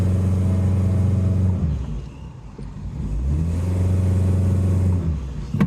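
A Honda Jazz CVT engine revs loudly and steadily with the brake held, drops briefly, then climbs again into a second sustained rev before cutting back.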